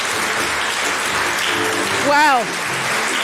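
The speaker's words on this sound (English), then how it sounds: "the judges do deserve a round of applause on that" Audience applause for debate judges at a televised debate competition, a steady broadband wash of clapping throughout with a brief spoken word over it near the end.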